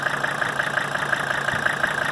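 A Mercedes OM617 diesel engine fitted in a 1970 Scout 800A idles smoothly, with a steady, even clatter of rhythmic pulses heard close up and alone.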